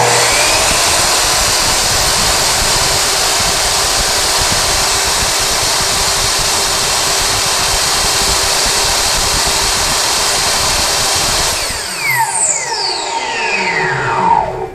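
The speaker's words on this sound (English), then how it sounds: "Let's see what the noise levels are on the Kobalt miter saw." A Kobalt miter saw runs loud and steady for about twelve seconds, a dense, continuous whine with no break, then spins down with falling tones over the last few seconds.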